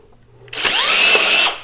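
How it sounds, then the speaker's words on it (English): A power drill driving a screw into a wooden canvas frame support gives one short, loud whine that starts after a brief quiet moment, rises slightly in pitch, holds for about a second, then cuts off. "support and we're gonna drill it in."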